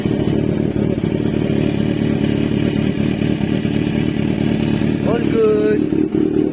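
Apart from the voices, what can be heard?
Kawasaki Z1000 R motorcycle engine revving through stock exhaust pipe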